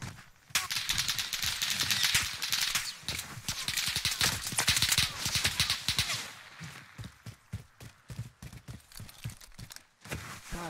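Rapid automatic gunfire in Call of Duty Warzone on Caldera, loud continuous bursts for several seconds, then sharper separate shots spaced out toward the end.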